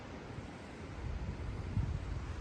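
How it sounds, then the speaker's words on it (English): Gusting storm wind in Boulder County roars steadily into the microphone as a continuous broadband rush, swelling slightly toward the end, with no other sounds standing out. "We got a crazy wind, about 15 miles per hour gusts"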